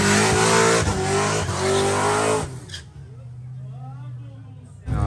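A Chevrolet Camaro sports car at a track event revs hard and loud for a couple of seconds, with tire squeal, then drops to a lower idle rumble; an engine roar swells again at the end.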